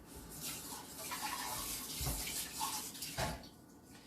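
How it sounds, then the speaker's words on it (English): Tap water runs steadily into a kitchen sink as a measuring cup that held milk is rinsed out, a continuous close splashing flow with brief louder surges. "let me rinse out my measuring cup"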